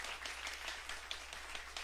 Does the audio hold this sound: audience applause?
yes